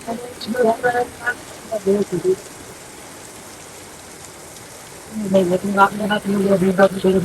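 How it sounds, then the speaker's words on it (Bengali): Rain falls steadily outside a parked red car, a soft wash under the talk as someone speaks on and off over it. "বৃষ্টি তো, এটার ভিতরে এখন রাকিব ভাই আছে"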